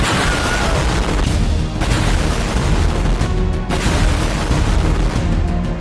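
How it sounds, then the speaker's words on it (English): A loud, sustained rumbling blast in a Lego city fills the whole clip, dense low booms and crackling debris rolling on for several seconds without pause. "I'm gonna see if this city can survive a giant explosion."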